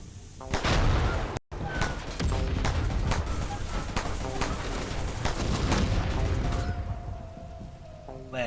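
Auto cannons fire in the colony video game RimWorld as a dense, continuous barrage of booming shots that briefly cuts out once, then keeps pounding before easing off near the end.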